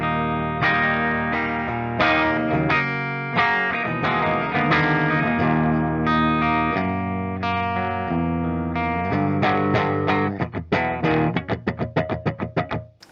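Electric guitar with a clean tone played through a Rustbelt FX Dual Amp Stoker pedal into an audio interface with Mesa cab impulse responses, ringing chords and picked notes, then a run of quick staccato strums, loud and alone.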